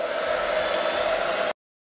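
A hair dryer blows steadily on freshly painted chalk paint, a loud, even whooshing hum with a tonal whine that runs unbroken for about a second and a half before cutting off abruptly into silence.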